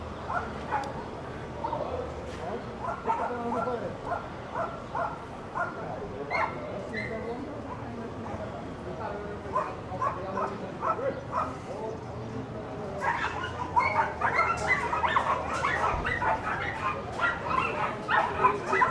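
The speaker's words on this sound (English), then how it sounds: "Leading dogs by the sound of things." Dogs at an outdoor Mallorca livestock market yap and bark amid a busy crowd murmur, faint and distant at first, then growing louder and denser toward the end.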